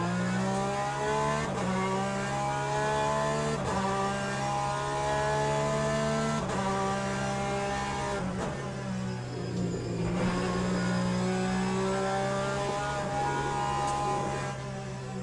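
A Porsche race car engine in the Le Mans Ultimate racing game holds a steady, loud revving drone, broken by several quick gear shifts that drop and rebuild its pitch.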